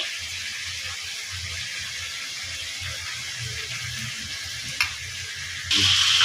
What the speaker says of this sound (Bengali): এদিকে মাংসটা ভাজা ভাজা হয়ে গেছে